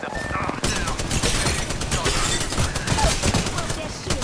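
Apex Legends gunfire with the player under attack: after a quieter opening, a dense rapid burst of automatic shots breaks out and keeps going loud and close, with a faint voice underneath.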